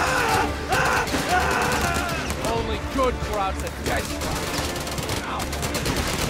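Rattling machine-gun and rifle fire from a World War II battle in the strategy game Company of Heroes 3 runs continuously at mid distance under a man's spoken dialogue.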